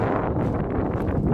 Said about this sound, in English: it's rather windy, and I hope you guys can hear me